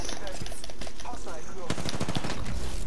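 Rapid gunfire in a multiplayer shooter game chatters through a busy mix of game noise, growing into dense, fast bursts in the second half.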